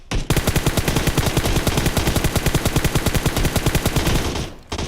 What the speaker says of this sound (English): remember this is a fully kitted M4